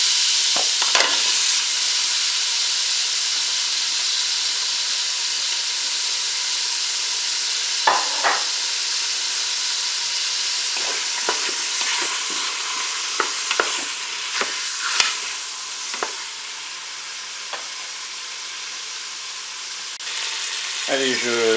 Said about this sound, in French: Je vais faire revenir mon rôti et mes oignons